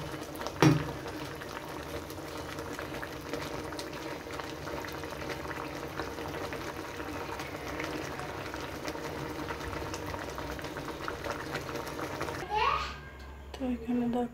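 A pot of egg curry simmers on the stove with a quiet, continuous bubbling. A sharp clank sounds near the start and a brief clatter near the end, with faint voices in the background.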